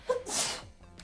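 A single sharp human sneeze bursts out close and loud, followed by a brief breathy tail and quiet room tone.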